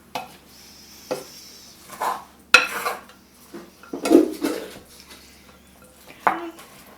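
Corn salad with tomatoes being tossed in a bowl, a handful of distinct clinks and scrapes of utensil against dish spaced irregularly, close and fairly loud with quiet gaps between.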